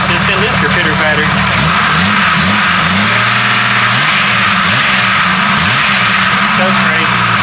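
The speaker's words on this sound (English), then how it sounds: "we've got a consistent lifter pitter-patter" A Jeep 4.0 engine runs with a steady, consistent lifter ticking, loud and close, with someone talking over the running engine the whole time.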